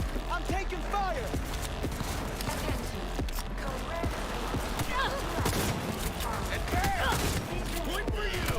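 Video game firefight with a steady crackle of gunfire and rapid shots layered over chaotic battle noise and shouting voices, dense and unbroken throughout.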